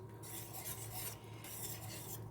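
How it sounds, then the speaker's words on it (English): Mashed bananas being whisked into melted butter in a pan on the stove, a steady scraping, rasping stir with soft rhythmic strokes close by, quiet and continuous with no talking. "I'm going to add all my mashed bananas into here. I'm just going to whisk it in."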